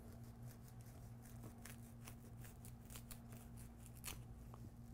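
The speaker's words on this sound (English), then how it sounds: "So this is the folding razor saw." A folding razor saw cutting through natural fiber rope, heard as a steady run of fine, rapid rasping strokes, close and fairly quiet over a low constant hum, with no speech.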